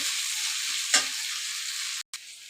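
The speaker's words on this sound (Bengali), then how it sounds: "সবগুলা পাপড় আমি ভেজে নিলাম" Papad fries in a pan with a steady, bright sizzle and a brief clatter of stirring near the middle, then the sound cuts out for an instant before the sizzling resumes.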